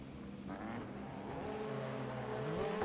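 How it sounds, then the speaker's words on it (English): Rallycross race cars idle and rev at the starting line in Sonoma, a steady rumbling engine drone from a short distance that rises slightly in pitch and loudness, with no speech. "Revving them up. Getting ready to go here in Sonoma."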